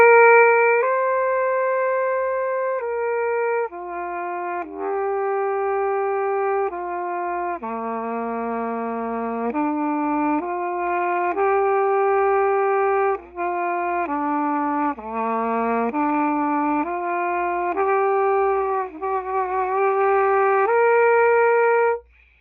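A brass instrument plays a slow drill exercise at a soft piano dynamic, about 60 beats a minute. Sustained single notes step up and down one after another, clear and close, with no talking.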